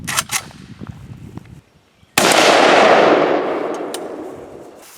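A single loud gunshot from a Century Arms AK-pattern rifle in 7.62x39 cracks outdoors at a railroad tie plate target. A sharp, decaying echo trails it, and fainter shots and handling noise come before it.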